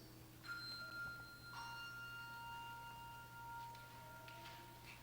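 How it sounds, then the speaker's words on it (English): Two struck bells ring out one after the other, each leaving a long, clear, sustained ring that slowly fades under a low steady hum. "ring 2 bells for peace"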